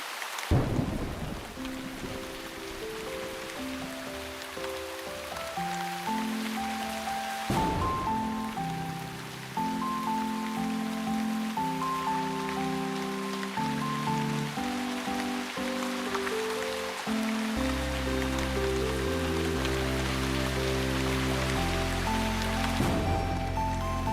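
Steady rain and rolling thunder in the video game Shroud of the Avatar, a continuous wash of rainfall under a bed of game music, with no talking.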